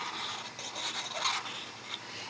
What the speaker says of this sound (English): We're going to burnish this really well.